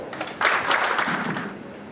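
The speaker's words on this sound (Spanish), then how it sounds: "Un aplauso, por favor." Audience applause at a port-industry panel in Peru as the next presenter is welcomed, a crowd of hands that breaks out sharply after a brief pause, then peaks and gradually thins within a couple of seconds.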